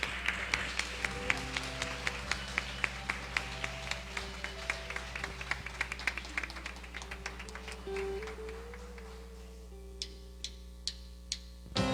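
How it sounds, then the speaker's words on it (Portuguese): Congregation in a church communion service clapping in a steady beat along with music, sharp rhythmic claps over sustained tones that thin out to a few isolated claps near the end. "Aplauda o Senhor bem forte"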